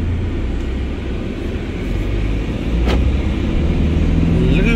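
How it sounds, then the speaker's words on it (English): A 2011 Mercedes-Benz E 250 CDI diesel engine rumbles steadily as the car accelerates from standstill, building slightly in loudness, with a low road roar throughout and no voices. "I'm putting it on drive mode now, leaving the brake, and the car shoots."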